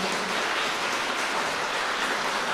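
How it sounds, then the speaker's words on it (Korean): Wedding guests applaud at a Korean wedding ceremony in a convention hall right after the bride and groom's mutual bow, a steady, dense wash of clapping with no pauses or voices. "뜨거운 박수 부탁드립니다."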